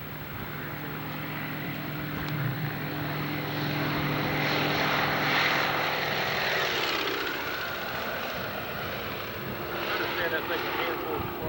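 A propeller airplane drones overhead in a steady, broad engine roar that swells and fades over several seconds, moderately near, under faint background noise.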